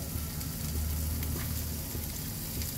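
Chopped onions fry in hot oil in a pan, a dense, steady sizzle close up with no talk over it.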